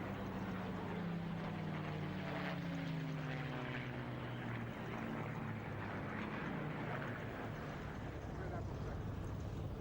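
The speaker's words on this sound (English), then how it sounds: "the first thing we see when all of these Spitfires are airborne is a great big tail chase of 8 of them, following each other through the skies" Eight Spitfire propeller fighters fly overhead in a tail chase at the 2002 Duxford Flying Legends airshow, a loud, continuous engine drone whose pitch sweeps downward as the aircraft pass.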